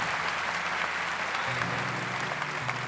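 A church congregation at a priest-led service applauds in steady, sustained clapping that fills the whole stretch, with a low held tone droning underneath.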